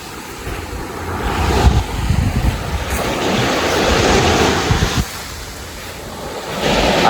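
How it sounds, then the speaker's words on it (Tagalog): Sea waves at a hot beach with cold water, rolling surf washing in and out in several swelling surges, close and fairly loud, with wind rumbling against the microphone throughout. "Dito kami ngayon sa dagat."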